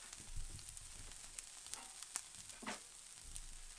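Peppers for a breakfast wrap filling sizzle and fry in a pan, a soft continuous crackle with scattered sharper pops and the occasional scrape of stirring, heard close and fairly quiet with no talking.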